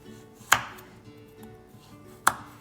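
Two sharp, isolated knife chops land on a cutting board while vegetables are cut lengthwise for dak-galbi, spaced well apart with quiet kitchen hum between.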